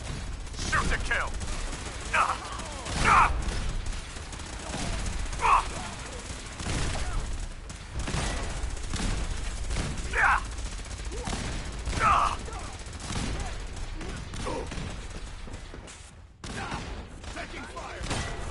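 Firefight gunfire in Fallout 4, with scattered bursts and single shots cracking throughout and mixed with game voices and combat noise at moderate loudness.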